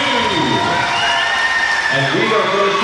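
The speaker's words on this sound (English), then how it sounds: "Give another nice round of applause to Abby and Anderson" Dense crowd cheering and applause fills the space for a skating couple at a Battle of the Blades figure skating charity event in Saugeen Shores, with whoops and children's shouts over a steady roar.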